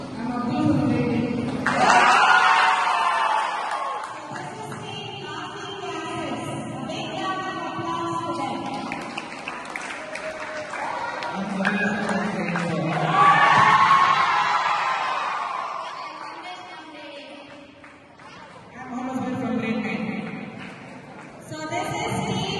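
A school audience cheers and whoops for a student team at a science event, with swelling shouts and applause that rise and fall around announcements spoken over a microphone.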